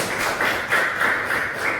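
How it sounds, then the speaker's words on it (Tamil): A classroom of students clapping together for a classmate, a dense, steady patter of many hands that swells in slight waves throughout, with no talking over it. "எல்லாரும் கார்த்திகேயன் கை தட்டுங்க"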